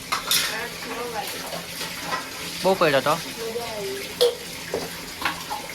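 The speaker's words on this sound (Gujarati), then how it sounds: "ચાલ તું વાસણ ધોઈ દે પછી વાત." Dishes are washed under running tap water, with clinking utensils and steady water noise close by while people talk over it.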